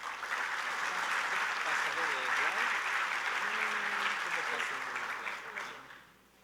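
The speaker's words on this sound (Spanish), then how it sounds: "Un fuerte aplauso." Audience applause welcoming the speaker at a 2019 livestock conference talk on animal genetics and nutrition: a dense, sustained wash of clapping with some voices mixed in, which fades away toward the end.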